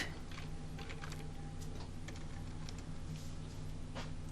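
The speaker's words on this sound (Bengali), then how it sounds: "এই জায়গায় টাইপ দিব, টাইপ" Steady typing on a computer keyboard while writing HTML code: quick, irregular key clicks run continuously at close range over a low, constant hum.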